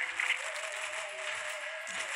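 Short burst of light applause and clapping in a PSP band game played on an Android emulator, with faint talk and a thin tonal line beneath.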